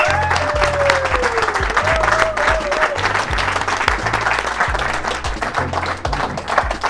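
An indoor audience at a golf talk event claps for the three people on stage, a dense, steady round of applause with low musical tones running underneath.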